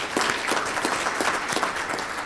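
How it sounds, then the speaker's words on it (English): An audience at an agricultural broadband summit claps together, a dense, lively round of applause with some distinct individual claps standing out, close and steady for a couple of seconds. "give them a round of applause"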